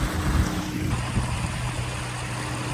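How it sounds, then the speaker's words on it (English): Another boat's engine drones steadily nearby on a river, mixed with a continuous wash of water and wind noise. "another boat coming. I hope this doesn't stuff up my test."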